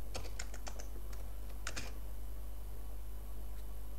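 Quick keystrokes clatter on a computer keyboard in a short burst, then a second cluster, over a steady low electrical hum, with a quiet stretch afterward.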